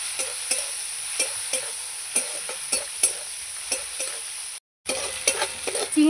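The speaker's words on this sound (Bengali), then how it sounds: "চিংড়ি মাছগুলো ভালো করে লাল লাল করে ভেজে নেব।" Prawns fry in hot oil in a pan with a steady, close sizzle, punctuated by regular clinks and scrapes of a spatula stirring, and a brief dropout midway.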